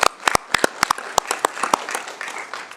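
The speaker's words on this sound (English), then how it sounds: "So I too want to applaud Dr. Logan and our staff." A small committee meeting room fills with brief, sparse applause, a scattering of separate hand claps that fades within about three seconds.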